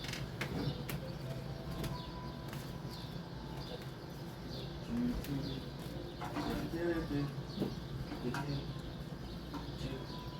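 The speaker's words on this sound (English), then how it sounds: "The birds are completely going bonkers." Many birds call and chirp outdoors in a steady, busy chorus, with cooing and scattered sharper calls over a low background rumble and no clear talk.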